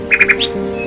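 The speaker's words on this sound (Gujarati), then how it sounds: "ચકલીઓનો અવાજ" Morning sparrows give three quick, bright chirps followed by a rising squeak, close and distinct over a steady low hum.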